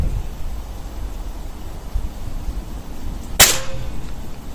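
A single sharp crack from an air rifle fitted with a shroud and silencer firing a pellet, brief and fairly near, over a steady outdoor background hiss.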